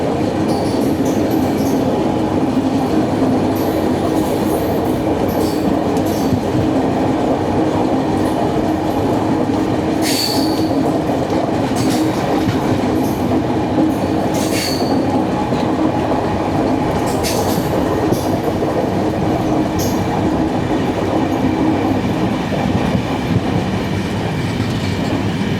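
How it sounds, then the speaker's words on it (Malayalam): The Mangala Lakshadweep Express, bound from Ernakulam to Hazrat Nizamuddin, rolls past loud and close with a continuous heavy rumble, rhythmic clickety-clack from the wheels and occasional sharp metallic squeals. There is no talking. "എറണാകുളത്ത് നിന്നും ഹസ്രത്ത് നിസാമുദ്ദീനിലേക്ക് പോകുന്ന മംഗള ലക്ഷദ്വീപ് എക്സ്പ്രസ്"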